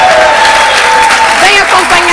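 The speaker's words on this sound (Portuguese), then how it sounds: "Eu quero aplausos, por favor" Audience applause at a Portuguese-language show, a dense, continuous wash of clapping throughout with a voice or tonal sound running over it.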